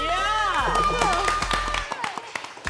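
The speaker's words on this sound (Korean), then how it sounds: "박수 받아보도록 하겠습니다." An audience claps and cheers after a first magic trick, a burst of applause with excited exclamations and voices over it, the clapping thinning into scattered claps at the end.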